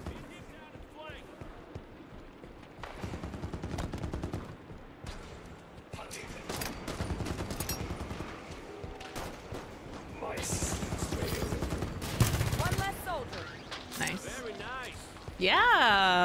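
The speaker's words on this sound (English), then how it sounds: "Turrets on and firing." Turret gunfire in the video game Halo 5: Guardians, with bursts of rapid shots mixed with explosions and mechanical noise over game audio, loud in places, and a player talking at times.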